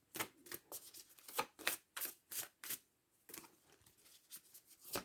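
Tarot cards shuffled by hand in a quiet room, a rapid series of crisp riffling bursts that stop briefly and then resume, close and fairly soft, with no talking.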